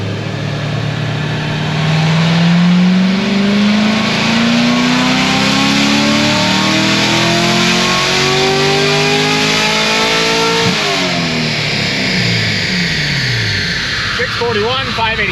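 A naturally aspirated LT1 engine in a Corvette C7 Grand Sport road race car roars on a dyno, its pitch climbing steadily through a long full-throttle pull before cutting off abruptly, then dropping back as it winds down.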